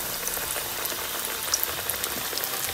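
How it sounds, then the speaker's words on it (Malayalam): Chicken pieces deep-fry in medium-hot oil, a dense continuous bubbling sizzle with scattered crackles and pops, close and steady throughout. "ഇനി നമുക്ക് നമ്മുടെ ചിക്കൻ ഇട്ട് കൊടുക്കാം. നന്നായിട്ടൊന്ന് ഫ്രൈ ചെയ്തെടുക്കാം."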